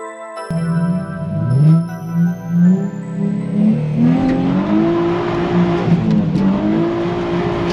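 A car fitted with an FDF Raceshop Mantis angle kit and racing seat starts up and revs loudly up close, its engine note climbing and falling through gears on a test drive.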